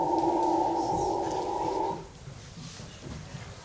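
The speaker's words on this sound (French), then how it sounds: "ce sont des singes hurleurs, qui sont à 2 km de là" Howler monkeys about 2 km away give a distant, droning roar for a couple of seconds, then fade into faint background ambience.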